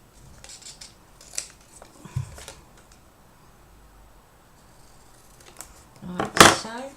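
Scissors cutting paper for a journal, a few quiet snips early on followed by a louder, close cluster of crisp cuts near the end, with soft talk between them.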